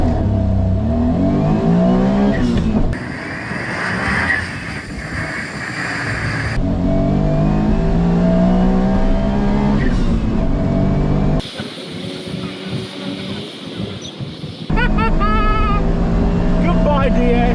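An Autozam AZ1 drag races a Citroen DS at Santa Pod: loud engines rev and climb through the gears, with sudden shifts in tone as the run goes on and a voice talking over the noise.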